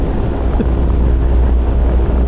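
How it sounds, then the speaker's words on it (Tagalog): Strong wind buffets the microphone of a moving motorcycle in a loud, continuous low roar with no pauses. "sobrang lakas ng hangin"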